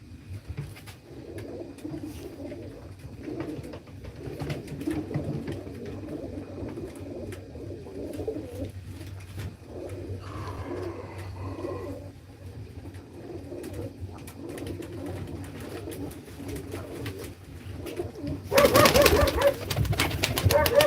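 Soft pigeons cooing nearby over a low background hum, with a brief loud rustle of flapping wings near the end.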